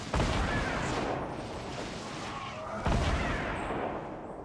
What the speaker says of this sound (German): die schießen, jetzt werden die bombardiert